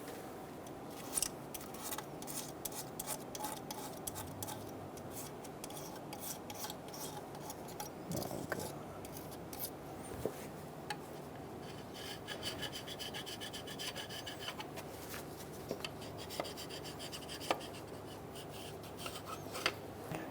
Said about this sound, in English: We're going to remove our cardboard using a scraper. Go through and scrape these surfaces,